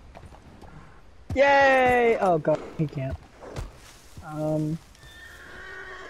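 Whinnying horse in the video game Red Dead Redemption 2, loud and close, followed by a shorter neigh and faint hoof clip-clops, with people talking and exclaiming over it.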